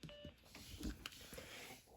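Brief electronic beep tones from an LG VX8300 flip phone sounding its low-battery alert, a few short quiet blips over faint background noise.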